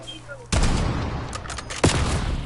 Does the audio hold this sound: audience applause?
no